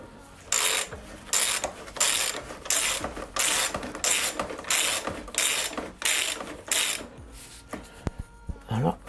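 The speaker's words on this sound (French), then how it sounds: "Et maintenant, on serre le tout. Du 14." A ratchet wrench with a 14 mm socket tightens motorcycle bolts during lowering work, its pawl clicking in repeated bursts of quick strokes, up close and steady, with faint background noise between strokes.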